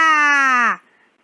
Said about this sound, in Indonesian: Ini adalah suara gajah.